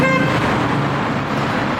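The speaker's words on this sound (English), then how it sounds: "Why are people honking?" A car horn honking on a busy Paris street, a loud sustained blare over traffic noise, heard close and without talking.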